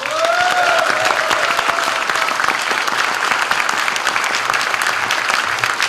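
Sustained applause from an audience at a Unified Progressive Party founding event in Jeonbuk, welcoming co-leader Lee Jung-hee: dense, steady clapping throughout, with a faint tonal whistle or voice trace early on.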